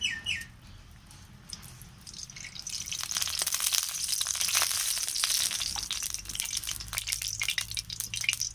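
Oil hits a very hot kadai and cubed potatoes begin frying, giving a continuous crackling sizzle that swells and stays busy throughout, close and fairly loud.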